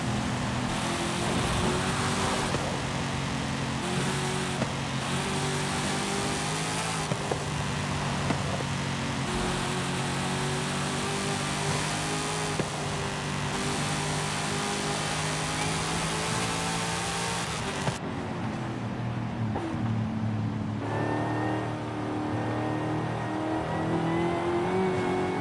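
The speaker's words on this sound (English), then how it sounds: "Those downshifts are crisp." A car with a swapped 10-speed automatic gearbox in Forza Horizon 5 revs hard and drops through rapid downshifts, its loud engine note climbing and falling in steady harmonic sweeps with no talking over it.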